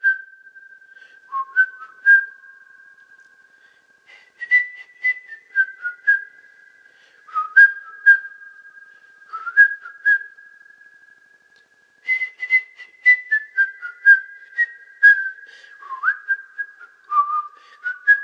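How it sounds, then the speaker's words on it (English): A person whistles alone in near silence, a clear, thin melody that comes in short phrases of sliding and held notes with pauses between them and goes on for a long stretch. "she started to whistle."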